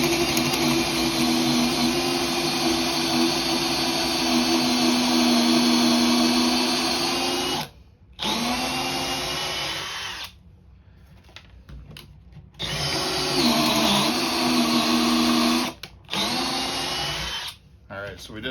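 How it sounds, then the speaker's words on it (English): A DeWalt brushless drill on speed 1 bores into three 2x4s secured together, with a loud sustained whine and grinding that stops and restarts several times with short pauses between runs. "going into 3 2x4s that have been secured together here"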